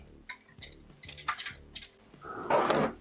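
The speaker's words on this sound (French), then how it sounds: "Je vais aussi ajouter mon beurre fondu en remuant." Canelé batter is stirred in a bowl while melted butter is added, producing scattered light clinks and taps of a utensil against the bowl, ending in a louder, wetter swish of pouring and mixing.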